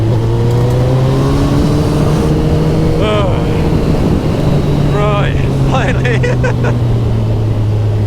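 A Kawasaki ZZR1400 motorcycle overtakes a bus on a country road, its engine droning loud and steady and rising in pitch as it pulls past, with heavy wind buffeting and someone speaking briefly over it.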